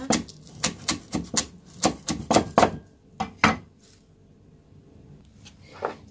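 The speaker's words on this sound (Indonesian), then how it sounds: "Kita potong halus" Knife chopping scallions and ginger finely on a cutting board, a quick series of crisp taps in uneven bursts, then a pause and one last chop, close and moderately loud.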